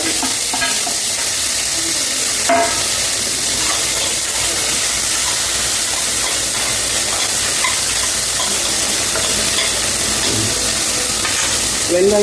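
Onions and tomatoes sauté in a kadai with mustard seeds, cinnamon and cloves for paruppu urundai kuzhambu, a loud continuous close sizzle with occasional stirring scrapes throughout.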